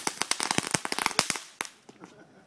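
A rapid string of firecrackers goes off close by in Guatemala, loud sharp pops crackling for about a second and a half, then a few scattered fainter bangs trail off.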